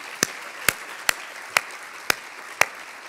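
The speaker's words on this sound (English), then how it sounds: "Let's give her another round of applause." Isolated claps ring out at an award ceremony, six distinct sharp hand claps spaced roughly half a second apart over a faint room hush.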